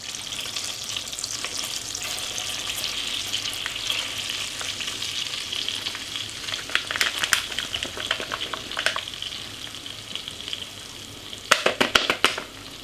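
Spiced potatoes hitting melted butter in a pan for Bombay potatoes, a close bubbling sizzle that swells into sharp crackling bursts toward the end, with no talking.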